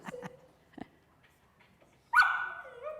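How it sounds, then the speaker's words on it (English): A young female puppy barks once, loud and close, after a few soft whimpers and yips during a training session. "We're just going to ignore the bark."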